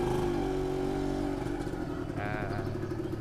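An original 1978 Suzuki TS 100 motorcycle engine is started and settles into a steady running note with slight revs, close and fairly loud.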